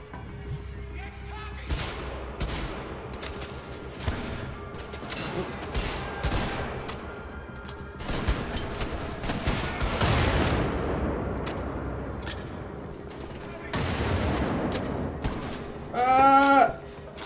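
Scattered gunfire in the video game Wolfenstein: The Old Blood, fairly quiet bursts and single shots at irregular intervals, with a louder stretch midway and a short ringing sound near the end.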